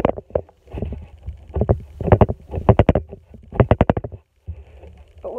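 Butter slime squished up close, giving soft, wet, non-clicky squelches in rhythmic bursts of quick squishes with short pauses between them.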